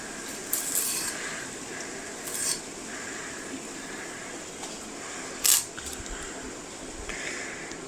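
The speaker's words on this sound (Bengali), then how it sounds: "ঠিক এইভাবে ছিলে নেব সমস্ত ডাঁটিগুলো।" Drumstick (moringa) stems are peeled by hand, producing soft, close scraping and rubbing with a few sharp snapping clicks against a quiet background.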